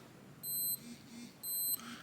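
A Casio G-Shock GBD-H2000 watch timer alarm goes off, two short, high electronic beeping bursts about a second apart, clear and close with a faint vibration buzz beneath.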